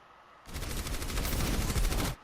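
Rapid burst of gunfire in the video game Overwatch as Ashe takes a headshot, a dense, loud volley of shots lasting under two seconds with no talk over it.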